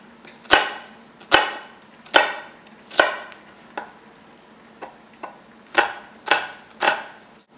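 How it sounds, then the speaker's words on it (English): A knife mincing one small onion on a cutting board, with about eleven crisp chops in an uneven rhythm and short gaps between them, close and clear with no talking. "We're going to finely mince 1 small onion."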